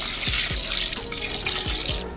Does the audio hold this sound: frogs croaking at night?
no